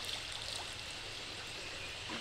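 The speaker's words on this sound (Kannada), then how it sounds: "ಅಪಾಯ ಮಟ್ಟ ಮೀರಿ ಹರಿತಾ ಇದೆ ಮಲಪ್ರಭಾ ನದಿ." The Malaprabha river in Belagavi, flooded past the danger mark after heavy rain and submerging the Hubbanatti Anjaneya temple, makes a faint, continuous rushing and gurgling wash of water.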